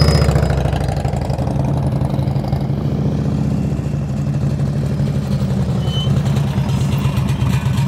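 A motorcycle engine holds a steady low rumble during slow-speed riding practice in the friction zone, throttle kept up, close and continuous with no talk.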